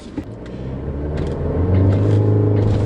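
A 2018 Alfa Romeo Stelvio in dynamic mode revs to about 2,000 RPM and pulls away, its loud, close engine rumble building steadily and swelling into acceleration with no talking over it.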